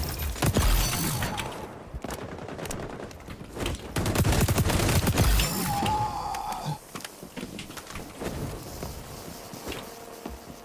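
Rapid automatic gunfire in the shooter game The Finals, loud bursts of crackling shots with short gaps, then scattered single shots, a brief tonal beep and quieter trailing fire.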